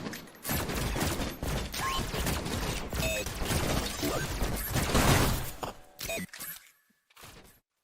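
Dense bursts of video game gunfire from pistols, shotguns and an RPG crackle and crash in rapid succession, with shattering impacts, then thin out into a few isolated shots before falling silent.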